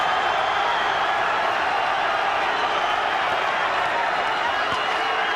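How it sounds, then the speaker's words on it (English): A dense, steady roar from the arena crowd at the Pacquiao vs Marquez boxing fight, in the closing half minute of a title bout, with a constant loud wash of cheering and no breaks. "Crowd are loving it."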